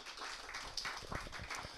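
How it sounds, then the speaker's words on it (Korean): Congregation in a church applauding together at the close of a prayer, a soft, steady wash of many hands clapping at moderate distance, lasting about two seconds. "박수 쳐주세요."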